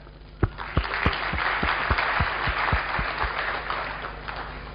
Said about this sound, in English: please again give Paul a warm round of applause